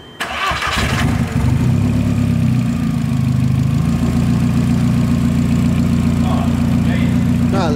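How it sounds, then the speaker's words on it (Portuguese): Volkswagen Golf GTI Mk4 engine cranking and catching, then settling into a steady, even idle, loud and close, with people talking over it. "Ó, eu vou ligar a lenta dele."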